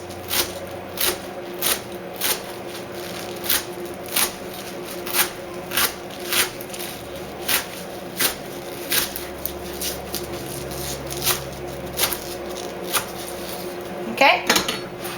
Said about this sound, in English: Just use a knife and go one way direction. Slice about 1/4 of an inch